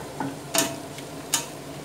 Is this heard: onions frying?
yes